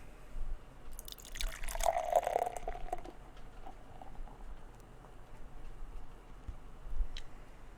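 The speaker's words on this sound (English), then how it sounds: "Gonna go ahead and give her a pour." Fifth Hammer Mary Bock beer pours into a glass in a short liquid splash followed by soft fizzing and dripping, close and quiet with no talk.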